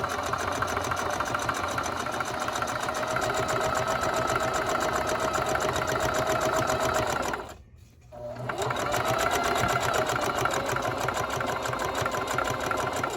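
A sewing machine stitching a basket runs in a loud, steady mechanical whir, pausing briefly near the end before starting up again at the same even pace.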